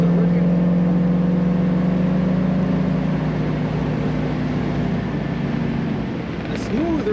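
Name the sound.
1966 Buick Wildcat V8 engine running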